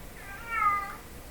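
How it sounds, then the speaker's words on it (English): A cat gives a single short meow at moderate distance, fairly faint against a quiet room. "My poor cat's meowing away there."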